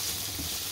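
Diced onions, artichokes, garlic and spring onion roast in a pan, giving a continuous, even hissing sizzle throughout, close and steady with no voices.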